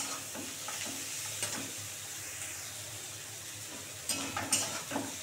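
A garlic and ginger spice paste being sautéed and stirred in oil for ghugni, a soft continuous sizzle close by with a few sharper scraping stirs near the end.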